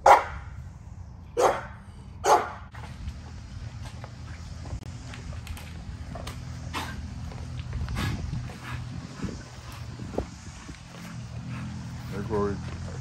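Dogs bark at feeding time at a home breeding kennel, with a few loud sharp barks near the start and fainter scattered barks after, over a steady low background and someone talking.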